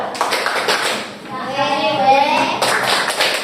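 Classroom students clap in appreciation for a presenting group, a burst of many hands applauding together amid a teacher's voice and children's chatter.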